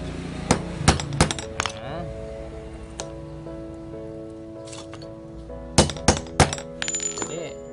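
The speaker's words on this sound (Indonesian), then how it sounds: "matanya kita paku" Hammer blows driving nails while cutting a motorcycle chain, a quick cluster of sharp metallic strikes, a pause with a few isolated taps, then another rapid burst, close and loud with speech intermittently in between.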